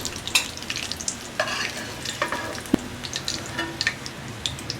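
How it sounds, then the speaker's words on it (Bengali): Koi fish fry in hot oil in a pan, a close crackling sizzle with irregular sharp pops and spatters, plus a few louder clicks from handling the pieces. "মাছের এপিট ওপিট দুই পিঠে আমি খুব ভালো করে ভেজে নিয়েছি"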